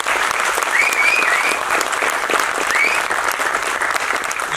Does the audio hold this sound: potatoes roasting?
no